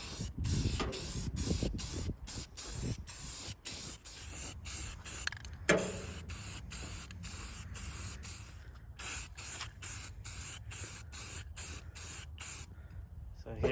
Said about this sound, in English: So I'll move the stand, get the paint, and spray it